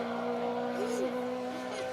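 A historic Ford Escort RS1800 rally car engine wails past on a forest rally stage, its pitch sweeping up and down as it revs, then fading off into the distance.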